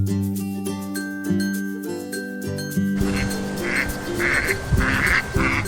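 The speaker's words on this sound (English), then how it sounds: "The Mallard Duck." A mallard duck quacks in a string of short, nasal calls, arriving after a few seconds of tinkling children's music and repeating in quick bursts while the music continues underneath.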